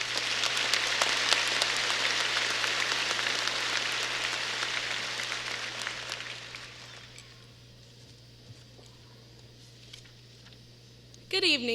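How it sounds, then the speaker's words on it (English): Steady audience applause at a 2019 high school graduation ceremony for graduating students, a dense clapping wash for several seconds that fades to a quiet hall, with a brief noise at the end. "Join me in a round of applause for these students."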